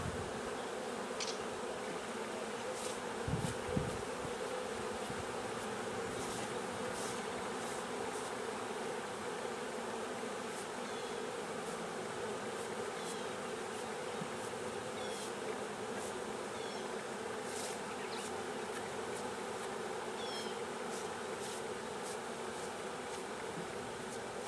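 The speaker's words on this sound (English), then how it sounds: "So hopefully we can have some happy bees in this big" Honeybees buzz steadily around a large hive outdoors, a dense continuous hum with individual bees passing close now and then and a brief thump early on.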